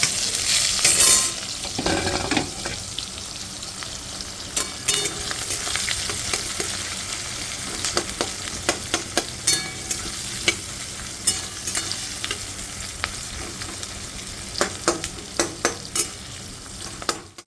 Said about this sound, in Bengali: জিরে আর শুকনো লঙ্কা ফোড়ন দিয়েছি আর তেলের পরে এই যে পেঁয়াজগুলো দিয়ে দেবো